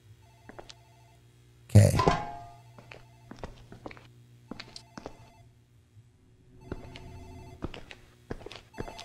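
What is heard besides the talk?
telephone ringing in the video game Dark Fracture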